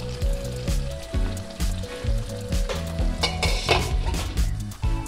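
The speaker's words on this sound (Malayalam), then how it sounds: "ഒന്നുകൂടി ഒന്ന് തുറന്ന് ഇളക്കി കൊടുക്കാം." Thattukada-style chicken roast with curry leaves sizzles in a pan while a spoon stirs it in repeated scraping strokes, close and lively with no talking.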